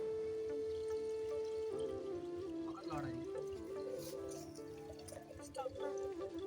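Rice-washing water pours steadily into a pot for making pongal, a gurgling, splashing flow, set against a continuous tonal background with some clatter.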